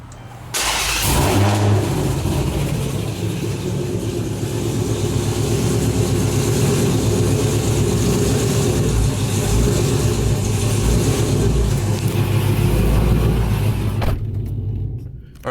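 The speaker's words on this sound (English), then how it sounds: "Turn on the car and just make sure it's working." A car engine cranks and catches after a back-up camera install, then settles into a steady, close, rumbling idle that runs for about thirteen seconds before cutting off abruptly.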